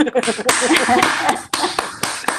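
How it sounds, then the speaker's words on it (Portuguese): Hands clapping at a conference lecture, a few sharp slaps in an uneven rhythm, close and loud, sounding like one or two people applauding with little else around. "Eu gostaria até de bater palmas, viu?"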